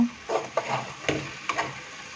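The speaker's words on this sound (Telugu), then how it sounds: "ఇక్కడైతే నేను కారాన్ని తిప్పుకొని రెండు నిమిషాలు మగ్గనిస్తాను" Okra curry with chili powder being stirred in a pan, a few scraping strokes of a spoon against the metal over a soft sizzle, close and fairly quiet.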